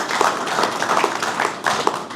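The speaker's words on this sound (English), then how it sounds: "let's give Dave a big round of applause" Applause from a meeting audience for a club member named Dave at an amateur radio club gathering, a steady patter of hand claps from a small crowd, fairly close and continuous throughout.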